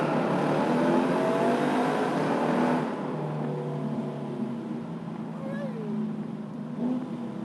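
A car pulls away in first gear on an Australian road, its engine note climbing steadily and loud for about three seconds before easing into a quieter, lower drone as it shifts or backs off.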